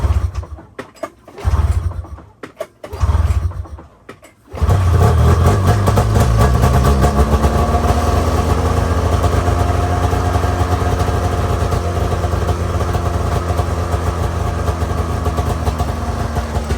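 A stock carbureted 2005 Arctic Cat F7 Snopro snowmobile engine, loud and close, sputtering unevenly at first, then catching and settling into a steady, rough two-stroke idle that runs on without talking.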